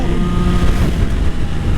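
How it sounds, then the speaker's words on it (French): A Suzuki GSX-R 1000 with an inline-four engine roars loud and close, a dense, continuous growl with a steady low drone and no voices over it. "Le moteur est moins brutal que le R1 en CP4, vu que ça c'est évidemment un 4 cylindres en ligne"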